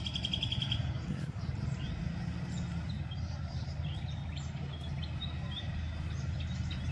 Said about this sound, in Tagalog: Tingnan nyo guys, so may ibon.